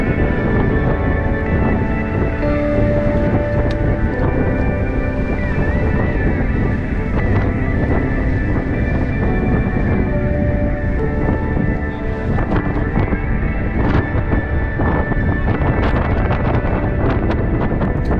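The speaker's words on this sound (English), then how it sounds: "although it stayed windy" Strong wind at a coastal campsite in Devon near Burgh Island and Bigbury roars loudly and without a break, buffeting the microphone in a thick, rumbling, close rush with no voices.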